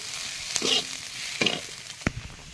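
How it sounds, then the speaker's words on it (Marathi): Onion roasting in a pan on a wood-fired village stove, a soft continuous sizzle punctuated by a few separate scrapes and taps of a stirring utensil, without any voices. "आता आमटी कांदा भाजायचं चालू आहे."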